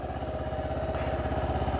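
A motorbike engine holds a steady mid-pitched idle with a fast, even pulsing throb, close and continuous, as the clutch is slowly let out on a quiet road.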